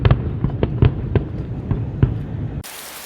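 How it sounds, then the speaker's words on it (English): Saturday-evening fireworks over Chicago, heard from a boat on Lake Michigan: a string of sharp pops and booms at irregular intervals, fairly close and loud, before the sound cuts off abruptly near the end. "we were treated to fireworks on the evening prior to our departure"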